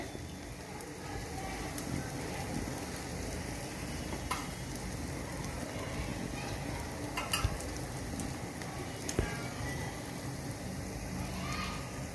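A vegetable pudla (savoury gram-flour pancake) cooks in a pan over a medium gas flame, giving a steady, even sizzle and crackle throughout with a few faint clicks, no voices.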